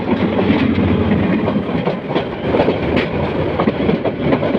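A Korean Hyundai 3000-series diesel train rumbles steadily past at close range at a railway station, its wheels clacking rhythmically over the rails throughout, loud and continuous.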